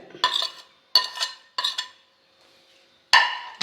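Sliced onion, garlic and curry leaves are mixed together for an ivy gourd thoran. There are four distinct, close bursts of rustling, clattering mixing, separated by short quiet pauses, and no talk.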